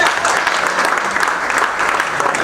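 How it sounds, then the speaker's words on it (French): Applause for the Salesian sisters, the Daughters of Mary Help of Christians, at a celebration of a nun's 25 years of religious life in Port-Gentil. A crowd claps steadily and densely throughout, loud and close, with no talk over it. "Applaudissements pour les Salésiennes."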